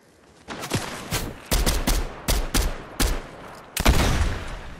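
Distant gunfire from enemies in a shooter video game, likely a DMR: about eight separate sharp cracks, spaced irregularly and partly in quick pairs, each with a short tail, with no talk over them.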